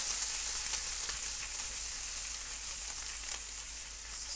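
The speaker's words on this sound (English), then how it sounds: "Just a tad bit of oil, get our bacon going" Bacon sizzles and spits in a pan with a small splash of oil, cooked for a modern Korean set meal. The frying is loud and continuous, with scattered crackles and pops and no talking.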